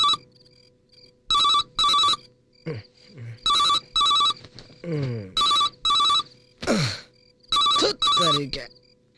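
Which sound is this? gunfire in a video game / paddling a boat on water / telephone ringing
telephone ringing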